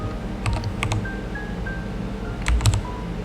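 Typing on a computer keyboard while coding a Blazor web page, with a few quick clusters of close, crisp key clicks spread unevenly over a few seconds.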